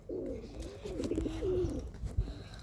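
Several pigeons coo in soft, low, rolling bursts through most of the moment, close by and moderately loud, with no voices over them, in a loft where the birds are being flown.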